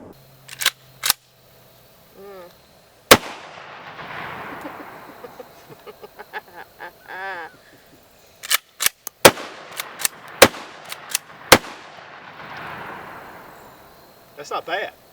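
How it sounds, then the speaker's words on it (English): A Charles Daly Honcho .410 pump shotgun fires about a dozen sharp, loud shots at irregular intervals, clustering in a quick run near the middle, with voices talking between the blasts. "these are some of her first shots."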